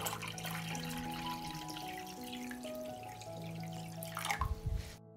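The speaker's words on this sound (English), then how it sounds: "Pour water up to the height of the lid." Water runs and trickles steadily into a saucepan holding glass jars, a continuous close pour with light dripping and a faint metallic ring, ending in a brief louder splash.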